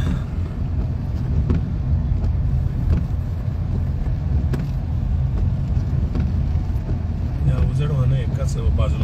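Heavy trucks and cars rumble past on a Maharashtra road in a continuous low drone, dense and close, while someone talks over the traffic throughout.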